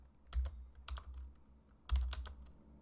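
Keystrokes on a computer keyboard while writing Excel VBA code, in two quick bursts of clattering taps separated by a pause, close and fairly loud with no talk.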